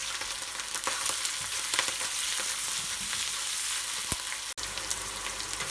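Shiitake mushrooms fry in a hot pan with squid for Hakka-style red pork, giving a steady, dense sizzle and crackle with scattered pops and stirring scrapes, fairly close and continuous.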